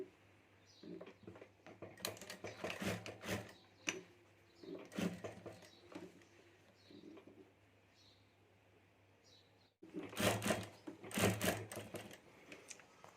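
Sewing machine stitching a handmade hand bag, running in several bursts of rapid mechanical clatter that stop and restart, with a steady low hum between runs and a louder final burst.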